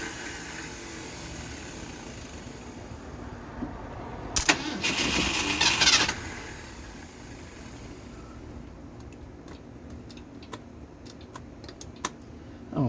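A Mercury engine is cranked once for under two seconds, a loud whirring starter burst that fails to catch, followed by quiet with scattered light clicks and taps nearby.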